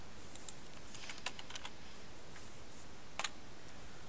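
A new password tapped out on a computer keyboard, soft scattered key clicks in small bursts, faint under a steady background hiss.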